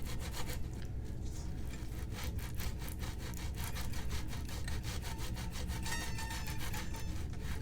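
Sandpaper rubbed along the edge of a buzzing 10th guitar fret gives a close, steady rasp built from quick, even back-and-forth strokes, with no voices.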